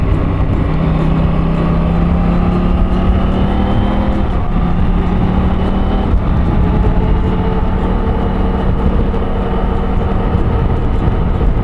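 A Beta Freeride 250 motorcycle climbs a steep bush hill, its engine droning loud and steady for the whole stretch with shifting pitch as the revs rise and fall, close by and with no talk over it.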